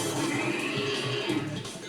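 A horse neighs in the Pokémon Legends Z-A video game, a short whinny heard fairly faintly over a dense game soundscape.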